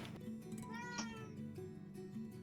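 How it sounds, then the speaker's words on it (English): A house cat lets out a single faint, rising meow during a tabletop game session, heard close but quiet against a soft room hum. "Meow."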